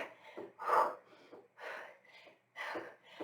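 Heavy, effortful breathing during a high-intensity workout, with loud close gasps and forceful exhales in an uneven rhythm, a few sharp snort-like breaths, and no clear speech.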